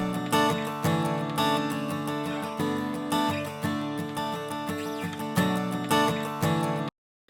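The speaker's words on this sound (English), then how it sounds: "This is acoustic guitar. It sounds like this," Dry acoustic guitar played without effects, a steady strummed pattern of repeated chords, close and full, stopping abruptly near the end.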